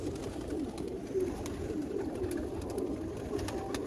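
Sialkoti pigeons coo softly and repeatedly, a low rolling murmur from several birds close by over faint background noise.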